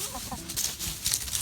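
Backyard chickens clucking softly in a garden, a low steady murmur of short clucks with faint higher bird notes, moderately distant and continuous.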